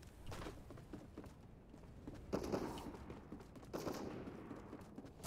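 Gunfire in a Fortnite squads match, with bursts of shots at moderate distance recurring over steady game ambience, no talk.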